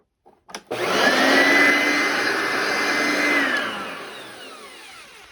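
A Eureka vacuum cleaner switches on with a click and spins up into a loud, steady motor whine and roar, running close by on carpet before winding down as it powers off.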